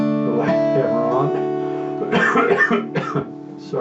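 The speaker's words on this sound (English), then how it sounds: "Sorry for the coughing today." A person with cystic fibrosis coughing during a guitar lesson, a few short harsh coughs near the microphone over sustained ringing guitar notes.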